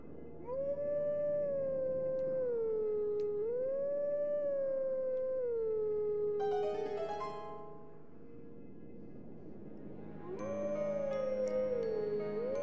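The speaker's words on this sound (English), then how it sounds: "just a couple of dogs howling at the moon" Dogs howling at the moon in a Zelda video game, long wavering howls rising and falling in pitch, a second voice joining midway, then a pause before another howl resumes.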